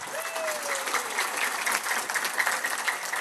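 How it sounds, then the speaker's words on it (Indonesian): A crowd at a lively Islamic sermon gathering claps for Quran teachers in a brief, steady burst of applause, a little distant, with a faint voice at the start. "Tepuk tangan untuk guru ngaji."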